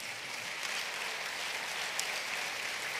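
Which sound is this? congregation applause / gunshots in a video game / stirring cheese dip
congregation applause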